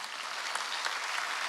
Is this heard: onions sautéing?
no